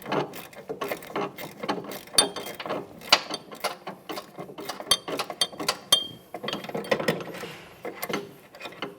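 Rapid ratchet wrench clicking in repeated bursts as a 14mm nut comes off a sway bar link stud on a 2003-2007 Honda Accord rear suspension, the stud held with a 3/16 Allen key; close and alone, with no talking.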